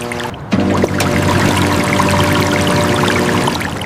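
A vegetable washer sends out fast water, a loud, continuous pouring rush that starts abruptly after a brief lull and holds steady to the end.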